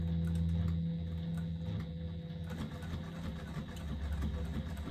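A sewing machine stitches along the bottom seam of a piece of sewing, its motor whirring loud and steady throughout with a fast, even mechanical chatter.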